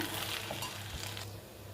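Steady scraping and stirring of seasoned flattened rice in a pan, with faint clinks of a utensil against metal, close and continuous.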